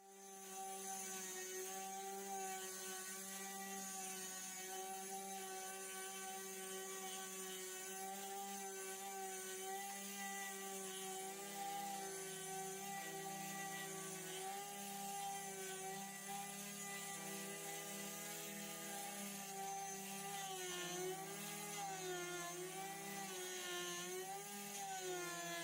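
A Pocket NC 5-axis desktop CNC mill with an upgraded spindle whines steadily while taking test cuts, its pitch shifting slightly as the tool moves through the material, with no talking.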